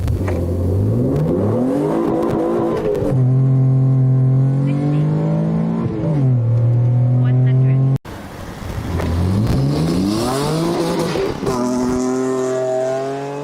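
An Opel Corsa with a 3.2 V6 making 250 horsepower accelerates hard from 0 to 100 km/h, engine pitch climbing loudly and dropping at each gear change, through two separate runs.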